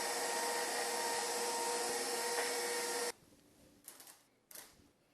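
A pasta cutter slices fresh fettuccine dough: a faint, steady mechanical whir runs for about three seconds, then stops, leaving a couple of soft handling sounds.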